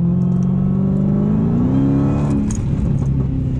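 Dodge Challenger Scat Pack engine revving loudly and steadily as the car accelerates, with brief crackling exhaust pops near the end, close and continuous.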